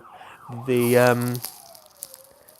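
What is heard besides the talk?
siren of a passing emergency vehicle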